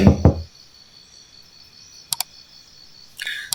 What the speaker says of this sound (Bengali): তনুশ্রীর ঘরের দরজায় কেউ একজন নক করছে।